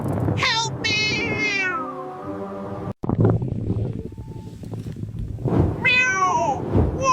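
A cat meows loudly in strong Miami wind, several drawn-out, rising and falling cries near the start and again toward the end, over a constant low gusting roar.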